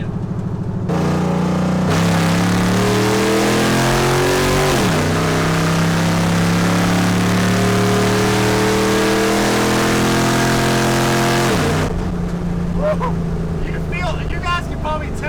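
A car with a 4L80 automatic transmission accelerates hard on a 60 road. The engine revs climb steadily, then drop sharply at a gear shift and climb again before the next shift, loud and continuous from inside the vehicle.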